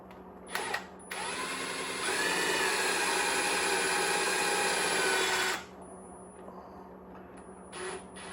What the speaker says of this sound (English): Run the 3 screws into the plastic